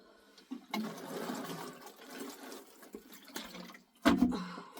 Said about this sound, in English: So I will water again.